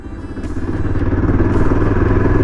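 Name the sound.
Yezdi Adventure motorcycle riding in third gear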